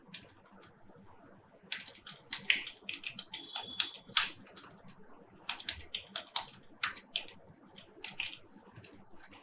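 Someone types numbers on a computer keyboard, and the soft key taps come close and clear in short irregular bursts with brief pauses between groups.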